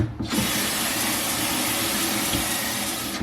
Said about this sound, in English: what I'm going to do is rinse it off a bit as well